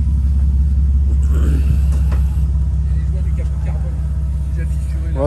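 A Toyota Supra with a carbon hood idling and rumbling up close, a deep continuous low engine drone throughout, while people talk over it.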